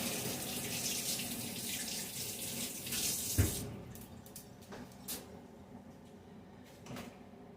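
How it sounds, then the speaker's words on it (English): Hands are rinsed under a running kitchen tap, a steady splashing water stream for the first few seconds that then cuts off, leaving a few faint knocks and clatters in a quiet kitchen. "Rinse off my hands real quick."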